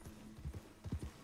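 Horse hooves clip-clop in a role-play video game, a quick run of soft, fairly close hoof thuds in uneven groups over quiet background noise.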